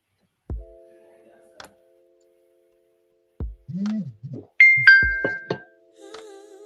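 Doorbell ringing a two-tone ding-dong chime in short bursts amid other clicks and tones, clear against near silence.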